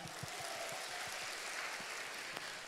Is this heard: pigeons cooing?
no